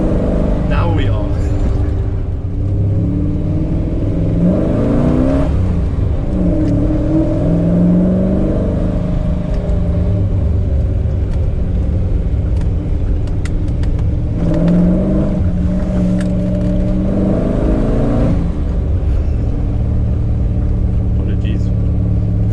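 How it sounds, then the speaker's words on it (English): Noisy V8 car engine, a loud, close, continuous rumble with two distinct rising revs or accelerations mid-clip, heard from inside or near the car. "I love noisy cars, especially noisy V8s"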